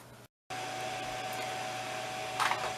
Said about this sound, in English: when the machine's switched on, you can hear the fan going